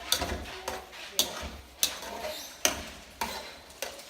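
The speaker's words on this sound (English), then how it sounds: "So you have to constantly keep stirring it, make sure it doesn't stick to the bottom" Okra being stirred in a pot for gumbo, a spoon scraping the bottom in regular strokes about every half second to second, fairly faint and with no talking.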